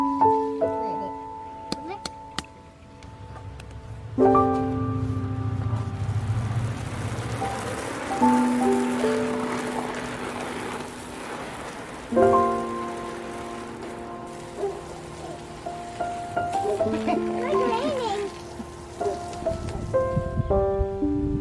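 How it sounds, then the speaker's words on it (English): Rain falls steadily on a small house in Illinois, a soft continuous patter beneath scattered tonal sounds and occasional thumps, with a voice speaking briefly at moments. "It's raining."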